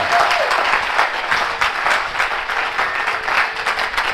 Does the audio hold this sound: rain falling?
no